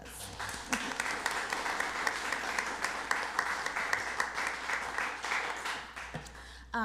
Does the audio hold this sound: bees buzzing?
no